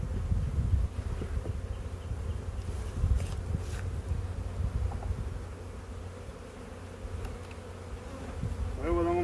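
A honeybee swarm settles into a hive box outdoors, a dense continuous buzzing hum close to the microphone with light wind rustle and a few faint knocks.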